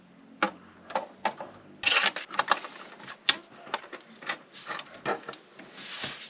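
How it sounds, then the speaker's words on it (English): Plastic wrapping and rubber bands being pulled off a gray Maisto Mustang GTD die-cast model car: close crinkling, rubbing and sharp little snaps and clicks in an irregular series, with no talking. "So now let's remove the plastic and the rubber bands."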